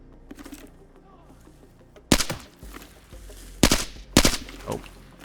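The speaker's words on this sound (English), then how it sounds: "that is terrible shooting from me" Gunfire in the shooter game Arena Breakout Infinite: after a quiet stretch, three loud, sharp bursts of shots crack out close by, with brief quiet gaps and a few faint background noises between them.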